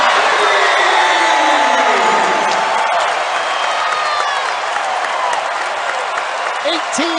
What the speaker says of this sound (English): This crowd has come alive.